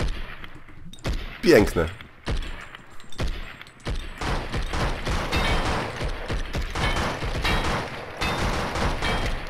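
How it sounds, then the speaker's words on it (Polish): Small fireworks go off in the game Blood & Bacon as a string of sharp, irregular pops and crackles spread across the clip, mixed with game noise and a brief spoken exclamation. "I to małe fajerwerki były."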